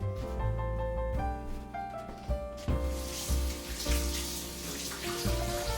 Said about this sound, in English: I'm gonna wash my hands off over here real quick